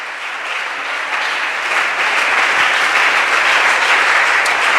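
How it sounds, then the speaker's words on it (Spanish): A church congregation breaks into loud, dense applause during a Spanish-language sermon, swelling in intensity across the few seconds with no voices over it. "Dele ese aplauso al Señor."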